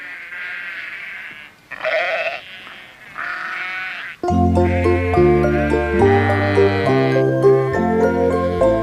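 Sheep on a farm bleat several times in wavering cries, then music starts and plays on loudly.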